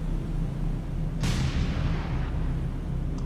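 A single distant naval gun blast from the War on the Sea game, a sharp boom with a rolling decaying tail, set against a steady low ship engine drone.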